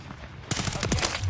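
Rapid automatic gunfire from a hard-kicking gun in Modern Warfare III, a fast rattle of close, punchy shots breaking in after a quieter moment, with faint in-game voice chatter underneath.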